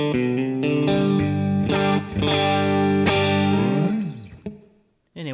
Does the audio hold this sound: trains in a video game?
no